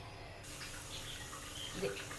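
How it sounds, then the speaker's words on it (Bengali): Fresh spinach leaves are rinsed under a running kitchen tap, giving a steady, moderate rush of flowing water with a faint splash near the end. "চলুন শাকটা ধুয়ে নিই।"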